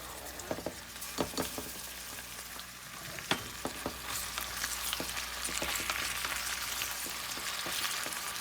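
Apple and jalapeño sautéing in a pan over medium-high heat for a smoky barbecue sauce, with a steady close sizzle and scattered sharp pops and clicks of stirring throughout.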